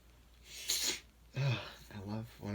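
A man gives a sharp, breathy sneeze up close, then follows it with short voiced sounds and a few words, all heard at fairly low level.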